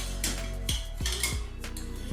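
Several bright metallic clinks and knocks of a pot and bowl as boiled chicken is moved from pot to bowl, in quick uneven succession, close and clear.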